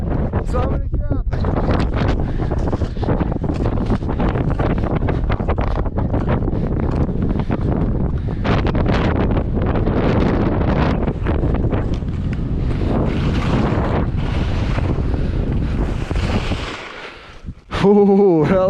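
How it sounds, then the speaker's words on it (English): Strong wind buffets the microphone on a Colorado 14er summit, Mount Cameron or Mount Democrat, a loud, steady roar that runs almost throughout before a brief change near the end. "wind picked up a little bit, so I'm gonna drop"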